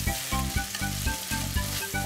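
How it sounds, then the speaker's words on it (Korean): Burdock pasta noodles stir-fried in a hot pan give a dense, close sizzle, with rhythmic pulsing scrapes and tosses roughly every quarter second, steady and loud throughout, no voices. "자, 이제 볶으면 끝입니다"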